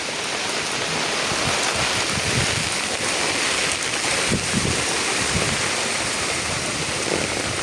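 Heavy rain pours steadily over flooded ground where floodwater has risen around houses, a dense continuous hiss and patter that stays loud and unbroken throughout.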